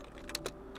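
A few quick, faint keystrokes on a computer keyboard while a command is typed, close and alone.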